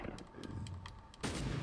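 Gunfire in the Van Helsing video game crackles as a run of faint, rapid shots, then one heavier, louder blast near the end.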